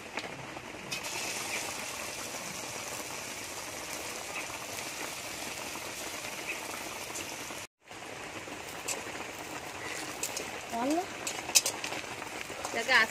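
Egg frying in hot mustard oil in a wok over a stove, a steady dense sizzle and crackle running throughout with a brief drop-out midway and some spattering near the end.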